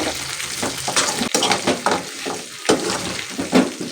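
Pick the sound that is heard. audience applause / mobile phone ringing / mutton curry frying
mutton curry frying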